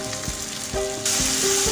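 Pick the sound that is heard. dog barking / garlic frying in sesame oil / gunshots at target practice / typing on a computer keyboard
garlic frying in sesame oil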